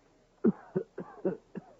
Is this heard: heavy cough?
yes